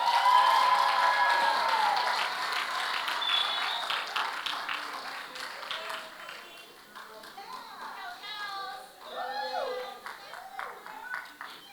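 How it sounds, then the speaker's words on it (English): An audience at the Caribbean Maritime University 2022 Long Service Awards applauds loudly at first, the clapping tapering off over several seconds as voices and children's chatter take over. "Use up the applause, folks."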